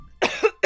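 A close, loud cough in two quick bursts from a livestreamer, the first a rough hacking sound and the second a short sharp follow-up after a brief pause.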